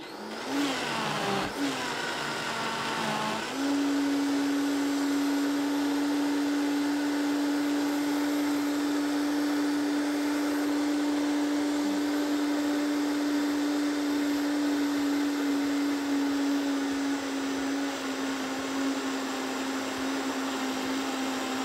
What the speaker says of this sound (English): Now all we're going to do is blend and put it in our ice cream maker.